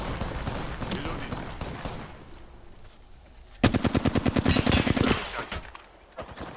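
Rapid automatic gunfire in the video game Apex Legends, a dense burst of loud close shots lasting over a second amid game noise and a voice talking.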